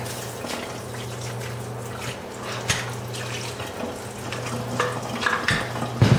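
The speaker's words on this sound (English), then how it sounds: "you want to hold it and just stir it around to get all the sauce" A spoon stirs homemade chile colorado sauce, thinned with water, around a pot with soft, continuous sloshing and scraping over a low steady hum, growing slightly busier toward the end.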